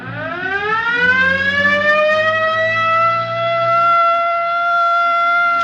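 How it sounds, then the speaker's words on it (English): A police car siren rises and holds a sustained wailing, howling tone, loud and close, with a low engine drone underneath for the first few seconds. "Better hit the siren."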